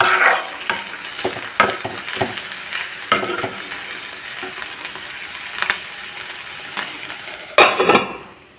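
Cluster beans thoran cooking in a pan gets stirred, with a spoon scraping and clinking against the metal in irregular taps over a constant soft sizzle, ending in a louder clatter as the lid is handled.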